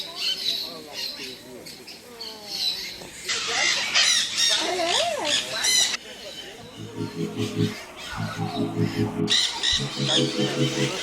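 Parrots in a zoo aviary squawk and screech loudly in repeated harsh bursts, with other birds calling around them and people talking nearby.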